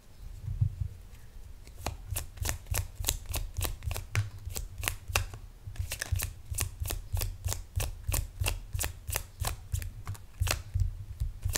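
A tarot deck being shuffled up close, with bursts of crisp, rapid card riffles and flicks separated by brief pauses, continuing at a moderate level throughout.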